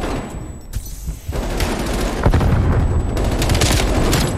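Steady gunfire rattles through a Call of Duty: Black Ops Cold War match, with dense bursts and fusillades running almost continuously and growing louder and closer after the first second, with no talk over it.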